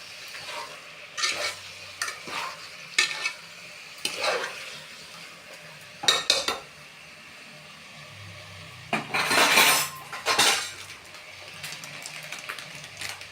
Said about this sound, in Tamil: பிரியாணி மசாலாலாம் போட்டோம்ல, ஸோ மொத்தமாக நம்ம நல்லா கிளறி விட்டுக்கலாம்